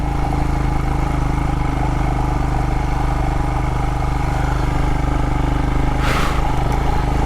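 Motorcycle engine running steadily on a hot bike during a Canyonlands adventure ride, a continuous mid-pitched drone with a brief louder whoosh near the end.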